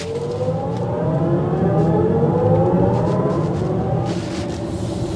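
A BMW iX xDrive50 electric SUV launches hard, its synthetic drive sound rising steadily in pitch for several seconds over a loud rumbling road and wind noise, with no talk.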